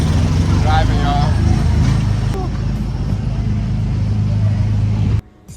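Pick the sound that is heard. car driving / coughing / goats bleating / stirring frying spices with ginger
car driving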